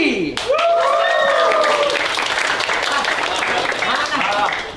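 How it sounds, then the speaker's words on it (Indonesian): A high school class gives lively applause to welcome a guest teacher, clapping dense and sustained throughout, with shouting and excited voices layered over it. "Boleh kita sambut dan tepuk tangan yang paling meriah untuk Mr."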